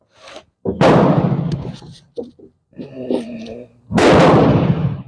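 Portuguese Vergueiro bolt-action rifle fired twice outdoors, two loud sharp cracks a few seconds apart with short echoing decay, separated by quieter handling clicks and rattles of the action.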